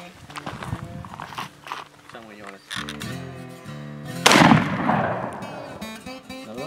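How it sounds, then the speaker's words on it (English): A Mossberg 12 gauge shotgun fires buckshot at a pumpkin outdoors: one loud, sharp blast partway through, set among music and people talking. "next up we have a Mossberg 12 gauge shotgun, and we are shooting buckshot"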